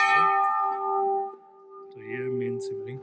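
Temple bell at Pura Mahadev Mandir, one struck ring with a bright, sustained metallic tone that slowly decays while a person talks nearby.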